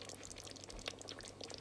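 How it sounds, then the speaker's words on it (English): Warm water being poured into a pressure cooker holding meat, heard as a faint, steady trickle and splash close by with no talking. "let me add my water now"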